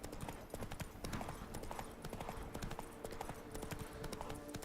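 Roach, Geralt's horse in The Witcher 3: Blood and Wine, trots along with a steady, quick clip-clop of hooves, close and fairly quiet, with no voices over it.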